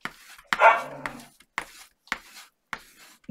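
Dogs barking indoors: several sharp, close barks spaced about half a second apart, with one longer, whining yelp near the start.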